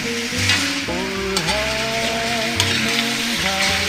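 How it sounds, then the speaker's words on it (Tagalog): Chicken curry fries in a pan as it is stirred, giving a loud, close sizzle with scraping strokes, backed by a steady tonal hum. "Kailangan halo-haloin natin dahil makadumikit sa kawali."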